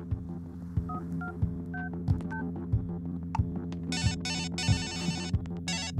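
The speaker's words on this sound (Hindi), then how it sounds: "चलो एक बार तुम इसे फिर से कॉल करो" Mobile phone keypad tones dial a number again in a Hindi-dubbed film scene, a series of short close beeps followed by brief electronic tone bursts over a steady low background hum.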